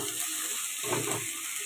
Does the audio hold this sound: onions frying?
yes